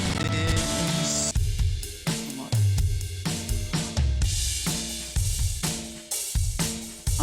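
Full multitrack mix with a drum kit recorded in one take, steady kick, snare and cymbal hits driving a dense rock arrangement of guitars and bass, loud and continuous throughout.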